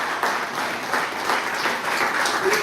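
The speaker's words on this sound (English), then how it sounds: "A big round of applause." Dense, continuous applause from a crowd at a school library inauguration, a steady wash of many hands clapping at once.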